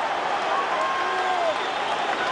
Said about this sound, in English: And applause from the United supporters